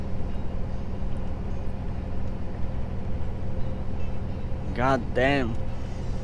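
A Scania truck's engine drones steadily as it pulls uphill after dropping a gear, a low, loud continuous rumble heard from the cab throughout, with a brief spoken exclamation near the end.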